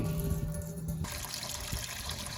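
Water poured from a container into the water pan of a charcoal smoker fitted with a diffuser kit, a broadband splashing fill that steadies into a continuous pour, close and fairly loud with no talk.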